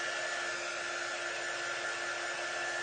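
A hair dryer runs continuously at close range, a loud steady whir with a high whine, drying shimmer paint on a craft piece.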